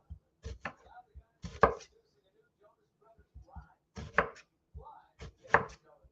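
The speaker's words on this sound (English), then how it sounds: "Cut your onions however you want." Onions chopped with a knife on a board, sparse clusters of sharp close taps in short bursts separated by pauses, fairly quiet overall.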